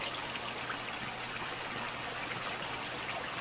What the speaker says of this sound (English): I don't want to be real right next to the water. It's too loud.